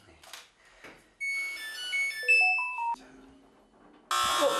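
A loud electronic alarm rings through a house at an eel farm, a series of shrill beeping tones stepping up and down in pitch, followed by a burst of harsher noise.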